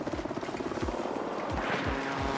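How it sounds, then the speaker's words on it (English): Helicopter in the video game Battlefield 6, its rotor beating in a fast rhythmic chop as it passes fairly close and loud, with engine whine layered over the blades. "Oh, here's a chopper, here's a chopper."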